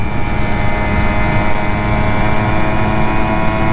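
A Simson moped engine drones steadily and close up throughout a relaxed ride, a constant buzzing hum with strong low rumble and no pauses.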